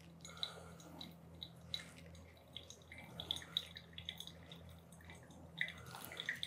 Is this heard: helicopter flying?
no